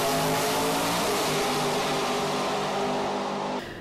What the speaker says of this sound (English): to have the privilege to be in a 3-seater dragster